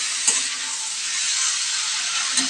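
Water poured into a pan of frying potatoes and arum (gati kochu) curry, giving a steady, loud hiss and sizzle that holds throughout, with a couple of faint clinks and no talking.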